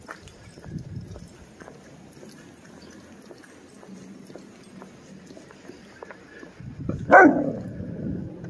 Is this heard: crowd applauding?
no